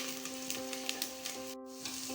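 Dried red chillies sauté in a pan for samai rice pongal, a soft steady sizzle with faint stirring taps under a constant hum.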